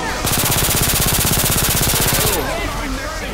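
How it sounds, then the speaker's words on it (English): Automatic fire from a machine gun in the zombie shooter Left 4 Dead 2, a rapid, steady, loud burst of evenly spaced shots lasting about two seconds, followed by fainter game noise and a brief chirpy sound effect. "Yeah, whatever, it's a machine gun."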